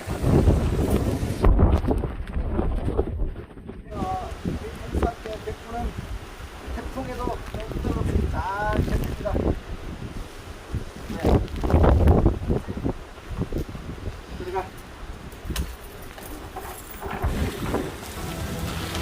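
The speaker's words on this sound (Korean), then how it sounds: "태풍 참투가 아, 강하게 비바람을 몰고 왔는데요" Typhoon Chanthu drives strong wind and heavy rain against a house entrance, a steady roaring wash of rain with gusts and splashing that runs the whole time, and a voice speaks intermittently over it.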